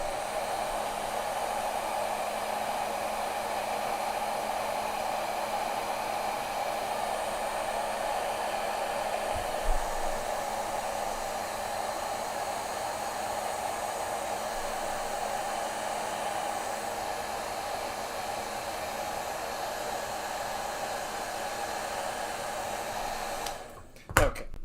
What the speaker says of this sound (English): just going to heat shrink this